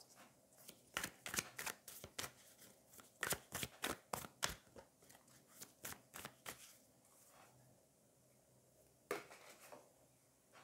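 Tarot cards drawn and shuffled from a deck, a quick series of crisp flicks and slaps in an irregular rhythm, close and soft, with a lone snap after a lull near the end.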